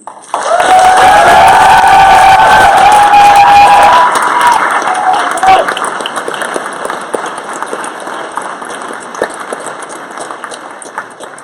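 A large crowd at a school valedictory ceremony bursts into loud applause and cheering with high whoops early on, then the clapping thins and fades over the following seconds.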